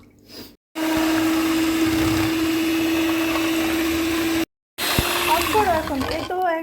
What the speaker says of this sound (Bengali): বিটার মেশিন দিয়ে। করো বিট।